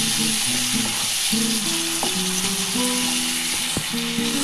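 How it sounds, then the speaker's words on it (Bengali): Spice masala for chilli paneer frying lightly in a pan, a loud, steady close sizzle with occasional scrapes and faint tonal clinks, no talking. "মানে হালকা করে একটু কষিয়ে নিচ্ছি"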